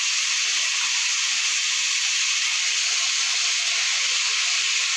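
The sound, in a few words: cabbage added to hot oil with cumin, bay leaf, potato, sizzling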